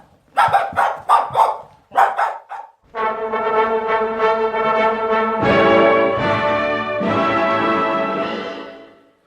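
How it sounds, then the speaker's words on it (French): A dog gives a quick run of sharp, loud barks as an effect in a French audio drama, followed by long sustained howling tones that hold and shift in pitch, with no voices over it. "Le chien."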